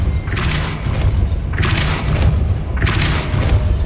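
Depulso spell impacts in Hogwarts Legacy on PS5 land as three loud, close whooshing booms in a regular rhythm over a low rumbling game backdrop.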